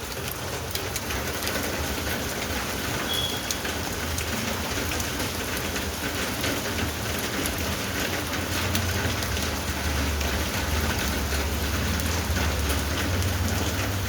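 The season's first monsoon rain falls steadily in Pardi, a dense, continuous hiss of rain on surfaces with a faint low rumble beneath, unbroken and even throughout.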